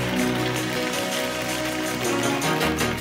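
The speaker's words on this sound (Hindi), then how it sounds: "चित्राल में बारिश और बर्फबारी का सिलसिला वक्फे से जारी है।" Steady rain falls in Chitral during a spell of rain and snowfall, a dense continuous patter that stays even and fairly loud throughout with no voices.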